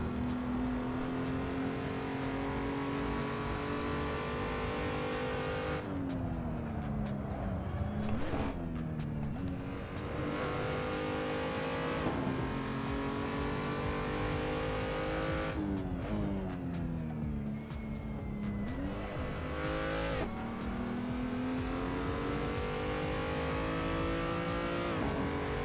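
BMW i3 race cars lapping in Assetto Corsa, engines droning and revving continuously with repeated gear shifts and swelling passes, loud and steady throughout with no talking.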